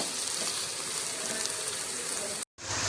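Onions fry in hot oil in a kadhai (wok) for a bhindi curry, giving a steady, even sizzle at close range that cuts out briefly near the end.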